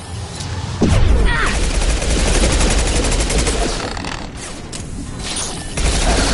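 Heavy gunfire in a Mass Effect 2 firefight, with rapid overlapping automatic bursts and impacts, loud and close, running steadily with a sharp boom near the start and another near the end.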